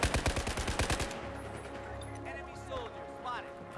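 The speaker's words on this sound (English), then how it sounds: "Someone is shooting me from the left." Rapid automatic gunfire in the video game Battlefield 4, a loud close burst of about a dozen shots in the first second, followed by fainter battlefield noise and distant shots.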